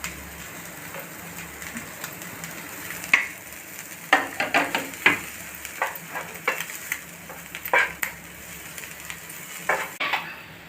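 Cabbage stir-fries in a pan for chicken noodles: a constant sizzle under repeated scraping and clinking of a spatula against the pan in irregular bursts, nearby and fairly loud.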